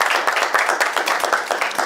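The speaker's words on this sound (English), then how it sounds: "A round of applause for AUA." An audience at a Nigerian accountancy quiz game show breaks into steady, dense applause, a loud continuous patter of many hands clapping together with no voices over it.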